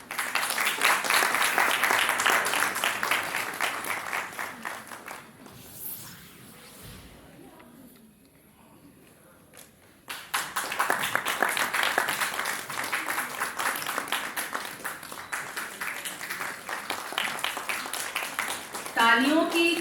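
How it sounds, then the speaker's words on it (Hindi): An audience at the Antas Utsav 2026 cultural festival claps for an honouree, with dense applause that fades to a lull midway and then swells again. A voice talks through parts of the clapping. "तालियों की गड़गड़ाहट कुछ कम है।"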